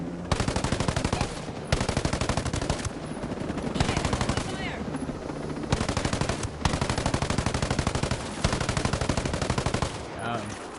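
Automatic gunfire in the tactical shooter Ghost Recon Breakpoint, loud rapid bursts of several seconds each with short gaps between them, and a player's voice heard briefly over the shooting.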